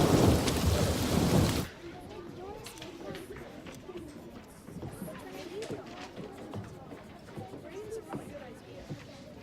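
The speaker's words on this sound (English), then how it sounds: "Looks like it's gonna rain. It won't last long, but it will be heavy." Heavy rain with thunder: a loud burst of roaring, crashing noise in the first couple of seconds gives way to a softer rainy background while people talk over it.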